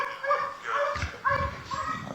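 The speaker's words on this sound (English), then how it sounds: "You hear my dog." A dog barks several times in quick succession, fairly close and moderately loud, with short yelping calls between the barks.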